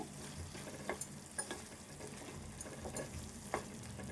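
Tomato pieces frying down soft in a pan for okra fry, a low faint sizzle broken by scattered soft stirring clicks and scrapes throughout.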